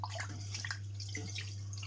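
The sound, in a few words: washing rice in water by hand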